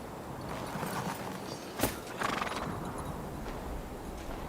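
Horse hooves and a neigh in the medieval game Kingdom Come Deliverance 2, with one sharp whinny standing out over steady ambient game sound, followed by a few softer hoof clops.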